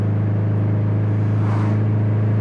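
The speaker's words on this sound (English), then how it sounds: "And the car spools up pretty quick too." A stock-block Subaru STI turbo engine making 457 wheel horsepower holds a steady, loud, low drone throughout, heard close up from inside the car with no talking.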